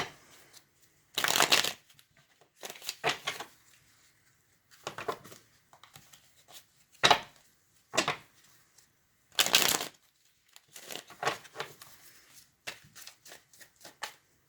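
Several bursts of card shuffling, crisp riffling rasps separated by short pauses, close and fairly quiet with no talking.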